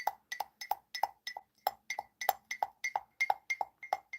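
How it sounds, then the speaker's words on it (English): Tea leaves pushed back down inside a mug make a steady run of quick, light taps and scrapes against the ceramic, close and clear, in an irregular rhythm with no talking. "What I'm actually doing right now is I am pushing the leaves that are on the sides of the cup back down into the base."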